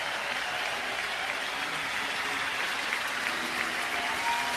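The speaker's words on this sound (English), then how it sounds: "listen to the crowd here at Wrigley Field as Imanaga heads back to the Cubs dugout" Fans cheer and clap steadily at Wrigley Field as Cubs pitcher Shota Imanaga walks back to the dugout on a windy night, a dense, even wash of crowd applause with no pauses.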